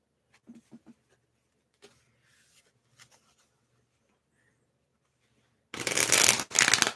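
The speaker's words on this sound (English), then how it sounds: "We're going to shuffle this one now." Tarot cards shuffled in two loud, close riffling bursts at the end, following a few soft taps and handling noises over quiet background.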